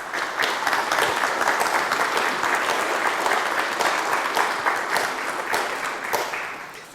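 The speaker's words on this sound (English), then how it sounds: "They deserve a round of applause by the audience." Sustained audience applause at a university conference welcome, dense steady clapping from a large crowd that holds for the whole stretch and eases slightly at the end.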